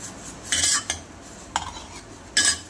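A spoon scrapes and clinks against a pot as cooled tomatoes are stirred into South Indian tomato pickle. It gives three or four short, bright metallic strokes, close by, with quiet pauses between them and no talking.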